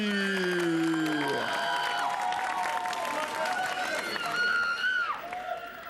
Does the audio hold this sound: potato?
no